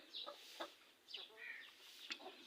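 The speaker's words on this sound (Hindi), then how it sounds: "ये यहाँ पे मुर्गियाँ हमारी बैठती हैं और अंडे देती हैं" Chickens in a coop give several quick, faint clucks and short squawks, scattered across a couple of seconds at a distance, with no voices.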